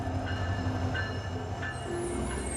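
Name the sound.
train near Denali, Alaska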